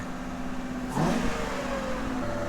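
Ford Crown Victoria engine cranking and catching, then a short rev rising out of a low steady rumble before settling back to a running idle, heard close.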